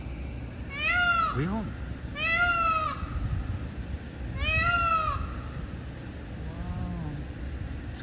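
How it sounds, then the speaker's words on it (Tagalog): Three loud, cat-like wailing peacock calls ring out at steady intervals with a fainter fourth at the end, over background murmur and a brief spoken word. "So peacock pala yung sound na yun."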